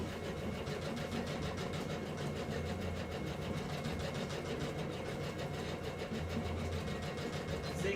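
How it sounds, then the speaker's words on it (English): A sewing machine running a zigzag reinforcement stitch, a steady mechanical whir with fast rhythmic needle ticking that holds evenly throughout at a constant, moderately close level. "I'm going to go ahead and put in a reinforcement stitch"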